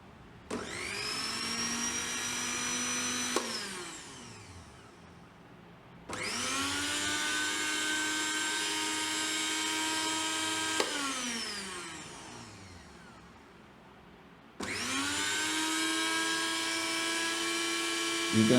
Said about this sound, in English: Let us check the mixer.